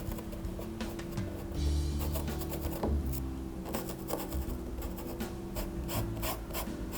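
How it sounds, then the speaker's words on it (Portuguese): A paintbrush works acrylic paint on canvas, blending pink hydrangea petals with soft, repeated scratchy rubbing strokes, faint and close-up, with no talking. "A gente pode vir com um pincelzinho e vem com outro pincel, esse aqui que limpa bem"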